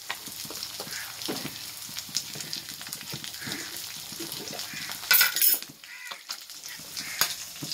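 Fenugreek seeds sizzle and fry in a little sesame oil in a pan, a steady soft crackle with a brief louder burst of spitting partway through and no talking.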